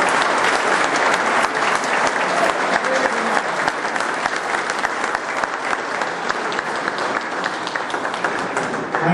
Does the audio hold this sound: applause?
yes